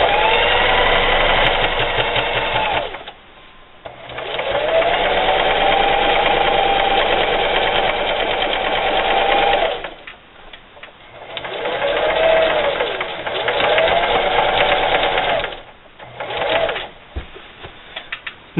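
A sewing machine stitches a patch onto jeans in three long runs of fast, steady whirring, separated by short pauses; loud and close with no speech.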